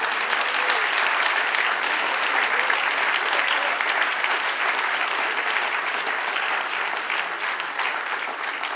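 A church congregation applauding during a sermon, a dense, steady wash of many hands clapping that continues at even loudness, with a faint voice underneath.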